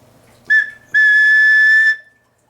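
A resin-cast pigeon flute gives a short high whistle, then a longer steady shrill tone of about one second, clear and close with nothing else sounding.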